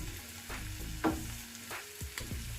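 Gongura rice frying in a pan, a low sizzle with repeated spatula scrapes and clinks every half second or so.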